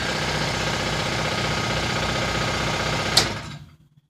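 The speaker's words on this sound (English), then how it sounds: "got an air compressor" An air compressor runs in a home workshop during a tow-truck wrecker build, its steady mechanical chugging holding even and loud before it abruptly cuts off and falls silent.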